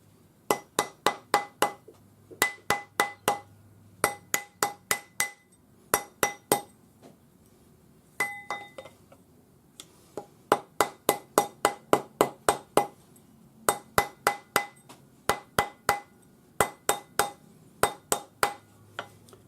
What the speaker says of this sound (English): And then use my rawhide mallet.